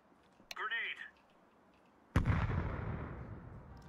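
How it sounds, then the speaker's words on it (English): A grenade in Counter-Strike 2 goes off with one sudden loud blast and a decaying rumble tail, preceded by a short click and a brief voice. "Grenade."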